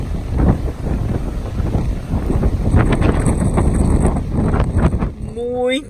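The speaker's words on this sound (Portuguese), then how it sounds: "muito vento lá fora" Strong wind gusts at a rough, dangerous beach in Akko, Israel, roar steadily and loudly into the microphone, buffeting it throughout with the rumble of surf beneath, and a brief voice is heard near the end.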